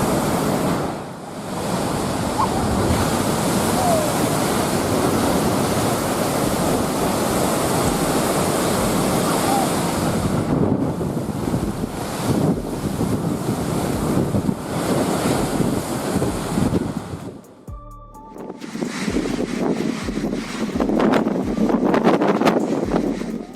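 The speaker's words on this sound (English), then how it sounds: "extreme weather can cause ocean waves to explode against coastal rocks, creating enormous columns of water" Ocean waves pounding coastal rocks in extreme weather, a loud continuous roar of surf and spray with heavy wind buffeting the microphone, briefly dropping out before the crashing resumes.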